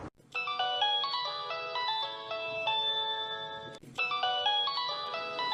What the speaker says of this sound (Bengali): কিরে তোর ফোন বাজতেছে